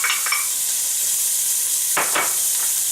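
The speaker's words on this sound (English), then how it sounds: "we're going to add our onions," Onions sizzling in a hot pan for an Italian sausage and cabbage stew, a loud steady hiss broken by a few brief scrapes of stirring.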